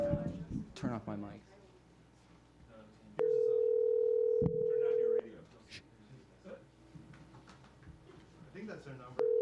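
A telephone dial tone sounds in two steady bursts as a number is dialed, with a person talking before and between the tones.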